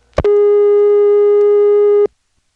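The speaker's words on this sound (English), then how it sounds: "That's a fairly exotic dial tone for the United States." Unusual dial tone from a 1977 North Electric NX1 telephone switch in Siler City, North Carolina, heard through a motel PBX: a short click, then one steady, loud, even tone lasting about two seconds before cutting off cleanly.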